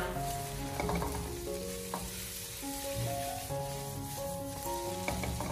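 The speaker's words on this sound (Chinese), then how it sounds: "然后开大火把它快速的翻炒一下，给它翻炒均匀" Blanched spring bamboo shoots stir-fried over high heat in a wok, with a steady loud sizzle and the scrape and clatter of the spatula tossing them, close and continuous, with no talking.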